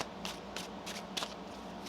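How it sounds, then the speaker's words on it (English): Tarot cards being shuffled by hand in a quiet room, a steady soft papery riffle with brief brighter bursts of card slaps, close and continuous with no talking. "One more shuffle."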